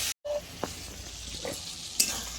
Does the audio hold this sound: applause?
no